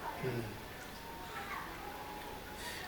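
A cat being fed gives a short meow near the start, faint and close, while people talk quietly around it.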